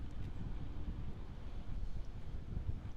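Steady wind buffets the microphone at the Moses Lake Airshow STOL competition, a constant low rumble and roar filling the clip without breaks or voices.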